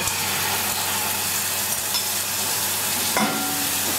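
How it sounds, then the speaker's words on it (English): Continuous loud sizzling of marinated chicken frying in a hot pan without added oil, a steady crackling hiss with a brief clank partway through. "Frying pan hot. You don't need to put any oil into it."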